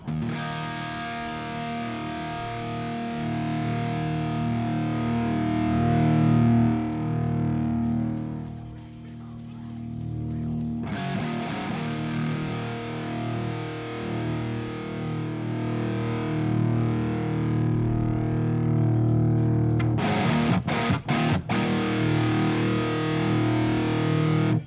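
Distorted punk rock guitar played through an amp-simulator plugin on its third channel, a loud, sustained wall of crunchy chords with a short quieter gap before the strumming resumes, plus sharp chopped hits near the end.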